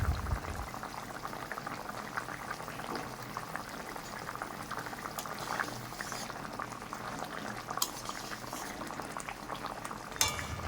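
A parshe fish curry cooked with mustard paste simmers in the pot, a continuous bubbling boil heard close up, with occasional light clinks of a utensil.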